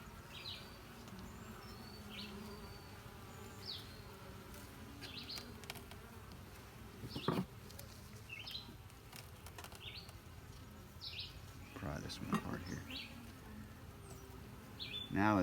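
Honey bees in a small hive they have just moved into buzz steadily at low volume, with scattered brief tones from birds and a few louder rustling bumps nearby.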